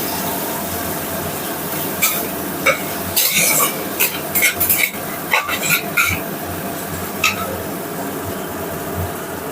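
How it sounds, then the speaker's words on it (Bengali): A spatula scrapes and clatters against a cooking pan as ginger and tomato are stirred, with bursts of scraping and knocks over a soft background sizzle, close and fairly loud. "এখানে আদা দেওয়া হয়ে গেছে এগুলোকে ভালোভাবে মিক্স করে নেবো"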